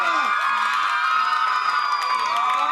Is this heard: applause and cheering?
yes